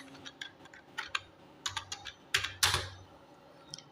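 Code is typed on a computer keyboard, irregular close key clicks arriving singly and in short clusters, with a louder burst of presses near the end.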